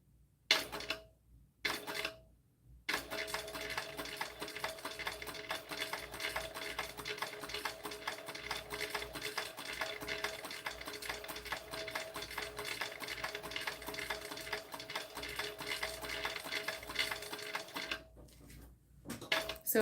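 Sewing machine stitching a strap, a rapid mechanical rattle running steadily for about fifteen seconds after a few short starts and stops, close and clear with no talk.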